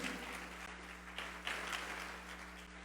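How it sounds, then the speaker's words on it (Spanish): A church congregation applauds during a Spanish-language Sunday worship service, a steady, moderately distant wash of clapping over a constant low electrical hum, with a few sharper claps standing out. "¿Le puedes dar un fuerte aplauso al Señor Jesús?"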